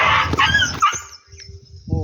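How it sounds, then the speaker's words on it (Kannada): Two dogs on the road near the Krishna river clash in a brief scuffle, with sharp barks, yips and whimpers close by over background noise, and someone talks over it. "ಓಹೋ ನಾಯಿಗಳು ಕಡ್ದಾಡಿ ಬಿಟ್ಟರಿ ಒಂದು ಸೆಕೆಂಡ್ನಾಗನ"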